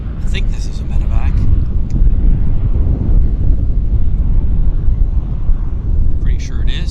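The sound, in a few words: medevac aircraft passing at Vancouver YVR airport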